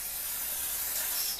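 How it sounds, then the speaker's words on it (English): Cooking spray hisses steadily from a can onto loaves of basic bread dough made with brown sugar and lard, one continuous close spray that cuts off at the end. "Spray all these down. You can brush them down with butter or oil or lard. I just use this spray."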